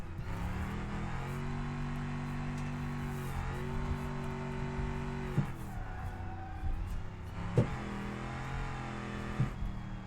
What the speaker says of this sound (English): Bit more angle, bit more power, and then the rear end kicks out.